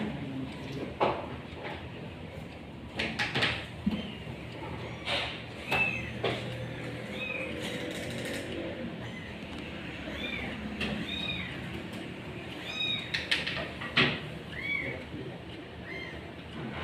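A sick cat with a cough and cold meows several times during nebulizer treatment, the cries short and scattered over a steady hissing background, with voices talking nearby.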